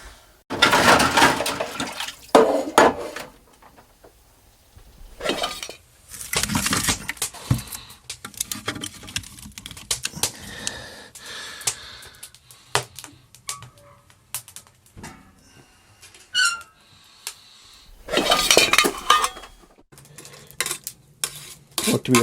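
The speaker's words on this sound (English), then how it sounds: "But first I got to do dishes." Dishes get washed by hand in an off-grid log cabin in the Yukon: clinking cutlery, scraping pots and splashing water come in irregular bursts with quiet gaps, close and fairly loud.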